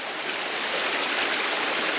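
Steady broadband rush of a creek flowing over rocks along a Tasmanian hiking trail, close and continuous with no voices.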